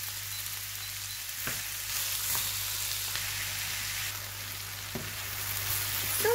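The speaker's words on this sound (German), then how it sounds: "Jetzt werden wir das Ganze einfach nur zusammen anbraten, bis unsere Zwiebeln schön glasig sind." Onions fry in a pan for an onion cake, cooking until translucent, with a soft, steady sizzle and crackle, broken by a few faint clicks and stirring scrapes, with no one talking.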